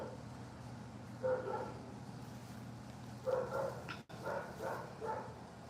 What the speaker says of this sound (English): Y'all, my dog is nuts.